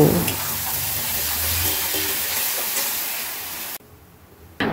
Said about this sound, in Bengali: এবার সবকিছু একসাথে সামান্য ভেজে নেব।